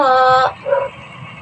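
A single drawn-out dog yelp or whine, followed by a shorter bark-like yip, close and fairly loud.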